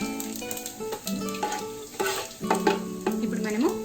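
Sliced onions and green chillies frying in oil with cumin and shahjeera for Ambur-style chicken biryani, close spoon scrapes and clinks over a steady sizzle.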